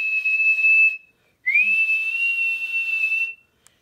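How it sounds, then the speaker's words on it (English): A policeman blows his whistle as a truck comes out of a tunnel: a loud, shrill blast, a short pause, then a longer sustained blast that wavers slightly before cutting off. "The policeman blew his whistle as the truck came out of the tunnel."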